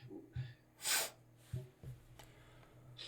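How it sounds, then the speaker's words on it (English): Short sniffles and snorts from a person with allergies, several brief nasal bursts spaced across a few seconds, close to the microphone with a low hum beneath and no talking. "I have a little bit of allergies if I'm sniffling here."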